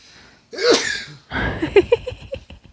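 A single close, sharp sneeze bursts out, followed by breathy laughter and a few quick vocal sounds.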